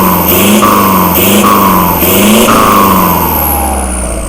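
Kubota L4708SP tractor engine with a large racing exhaust revving hard in repeated loud bursts, pitch climbing and dropping with each throttle blip, close and alone with no talk.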